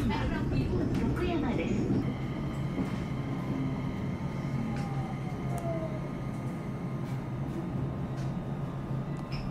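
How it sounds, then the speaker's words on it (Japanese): A train runs along the rails in Japan: a steady rolling rumble with a faint rising whine, fairly close, and a stronger surge at the start. A talking voice continues over it. "4分ほど電車を走らせると、"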